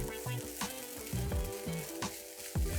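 Scallion fried rice with scallion greens stirred in a pan after the stove is switched off, spatula scraping and tossing in uneven close strokes over a faint residual sizzle.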